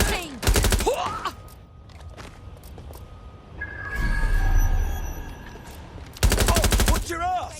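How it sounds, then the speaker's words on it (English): Gunfight sounds from Watch Dogs: Legion: two sharp bursts of rapid automatic fire, close and loud, with scattered single shots, rumbling impacts and a swelling noisy passage between them. "Suspect is shooting."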